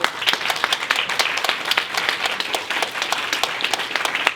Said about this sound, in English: Can we just have a quick round of applause for our panellists?